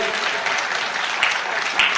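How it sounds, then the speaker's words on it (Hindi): Listeners at a Hindi comic poetry gathering clap for a poetry recital, a brief, steady round of applause from a crowd, with a few sharper claps near the end. "आप एक बार जोरदार तालियां बजाएं उनके कविता पाठ के लिए।"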